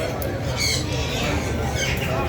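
At a pet bird market, a colorful parrot lets out a few short harsh squawks under steady crowd noise and nearby talking.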